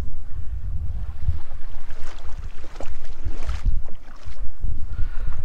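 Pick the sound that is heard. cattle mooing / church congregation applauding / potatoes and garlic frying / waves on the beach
waves on the beach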